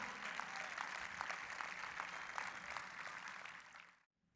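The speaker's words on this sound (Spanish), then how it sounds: "¿Habrá alguien que le dé un fuerte aplauso al Señor?" Applause from a church congregation, a moderately loud wash of clapping that holds steady and then fades out quickly near the end.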